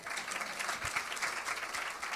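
Steady applause from a studio audience at a talk show with a drag queen guest, moderately quiet and continuous, with no voices over it.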